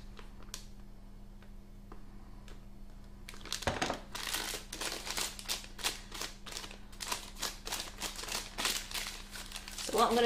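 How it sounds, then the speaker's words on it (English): Plastic piping bag crinkling as melted chocolate is poured into it, a busy run of close crackles and rustles starting after a few seconds and continuing with a steady hum underneath. "Let's pour some into a piping bag."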